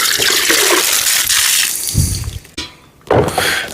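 Water gushing steadily and loudly from a tap outdoors, with a short break and a clunk partway through before the flow starts again.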